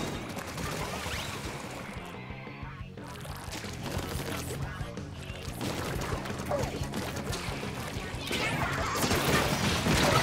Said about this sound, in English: Jump scared by the suction bomb.